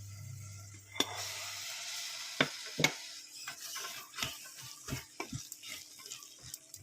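Brown chickpeas with spices in a pan on the stove give a soft, steady sizzle, broken by a string of scraping knocks as a spoon stirs them around, close by and quiet.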